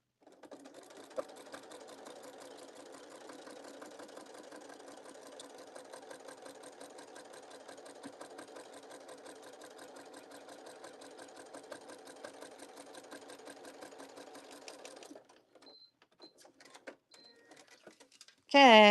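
A sewing machine runs steadily while top stitching a fabric teacup pouch, its rapid needle clatter continuing evenly for about fifteen seconds before stopping, followed by faint handling noises.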